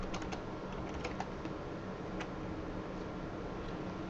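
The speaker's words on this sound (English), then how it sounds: "I can simply type in the number, or I could type in the person's name" Keys pressed on a ShoreTel office phone keypad to enter a number, a run of light, quick clicks near the start, then sparser taps over a steady background hiss.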